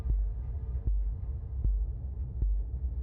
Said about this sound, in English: I don't like the heartbeat sound